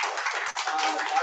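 An audience at an engineering lectureship award ceremony claps in a brief, dense burst of applause that stays fairly loud and even, with a momentary dip partway through.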